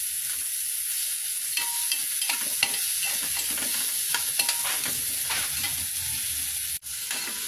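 Onion, tomato and garlic sauté in a hot pan for sinigang sa hipon, with a steady close sizzle broken by scraping stirs and soft clicks of a utensil against the pan.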